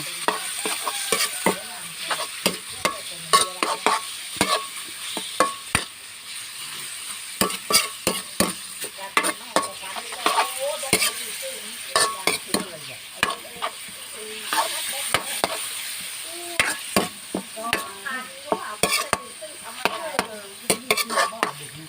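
Pork being stir-fried with shrimp paste in a pan for a Thai long-bean dish, a continuous sizzle broken by frequent sharp scrapes and clacks of the spatula, close and busy.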